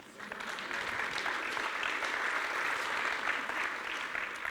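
Steady applause from a conference audience at an opening keynote for a tech developer event, dense and sustained from start to finish with no pauses.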